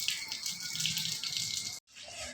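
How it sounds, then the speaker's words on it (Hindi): Water is sprinkled over a roof with a steady hissing splash, briefly cut off and then resuming, close by with no voices. "तो गाइस इन्होंने सारी छत पे भी छिड़काव कर दिया"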